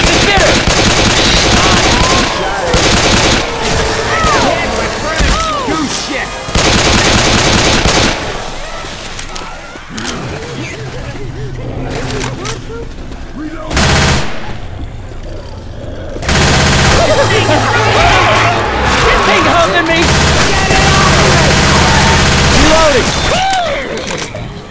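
Heavy gunfire in Left 4 Dead 2, repeated automatic bursts and shots in loud clusters separated by brief lulls, with voices occasionally cutting in.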